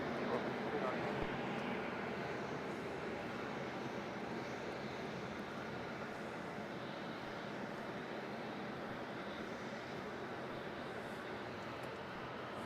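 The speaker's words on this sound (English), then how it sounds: "A nice little 4-burner lining up there on 3-4." A four-engine jet airliner lines up on runway 34 at Melbourne Airport, a broad distant engine roar holding steady at low level, slightly louder at the start, with no clear voices.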